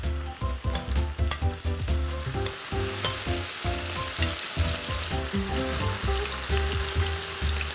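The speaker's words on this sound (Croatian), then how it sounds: "Sada ćemo piletinu lagano staviti na ugrijanu tavu." Chicken pieces sizzle and crackle loudly in a preheated pan, a steady close frying hiss with stirring and shifting noises and no talk.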